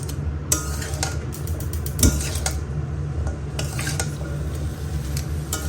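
Whole spices, turmeric, ginger paste, ghee and vegetables for a chhana curry are stirred in a pan, with repeated close metal spoon scrapes and clinks over a soft sizzle, and no one speaks.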